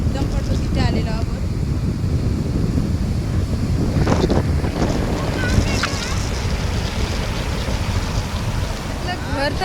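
Sea waves wash and roll steadily onto Shiroda beach on the Konkan coast while strong wind buffets the microphone, forming a constant loud roar through the whole stretch with no clear talk.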